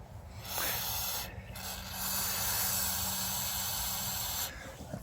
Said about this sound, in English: So we will blow some compressed air into the carburetor.